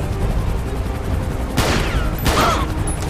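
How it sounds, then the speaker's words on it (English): Gunfire from a police air unit in GTA V crackles as a dense, noisy rattle, with two sharp bursts of rapid shots over a steady game background. "the air unit's shooting her"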